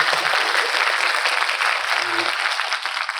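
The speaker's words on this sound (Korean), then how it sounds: "여기서 박수 한번 쳐주시면 됩니다." An audience at a talk concert gives a steady round of applause, dense and sustained clapping that continues through the whole clip with a faint voice underneath.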